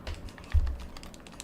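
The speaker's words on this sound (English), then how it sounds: "I'm holding the controller way down here, but I'm sure y'all can still hear the clicking." Game controller buttons pressed during a Pokémon Fire Red session: a quick run of faint, light plastic clicks and taps at an irregular rhythm, heard alone at low level.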